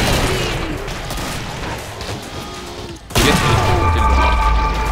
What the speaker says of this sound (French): Grenade vers toi, attention!